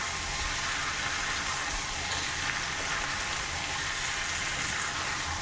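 Rohu fish with small teasel gourd and potatoes being sautéed in a pan, giving a constant loud hissing sizzle that runs unbroken, with no voices.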